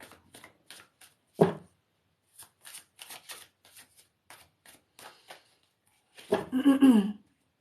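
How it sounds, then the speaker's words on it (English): Tarot cards shuffled by hand in a run of short riffling bursts, close and crisp, ending in a longer, louder riffle with no talking. "I'm gonna pull a card for you."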